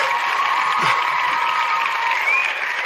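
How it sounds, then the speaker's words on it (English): Dense, steady applause from a comedy podcast audience fills the whole stretch at an even loudness, with no break and no clear speech over it. "Definite applause for that one"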